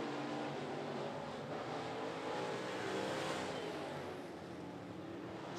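Modified stock cars race around the 411 Motor Speedway, a continuous engine drone at a distance with a faint surge and fade as the cars swing around the track.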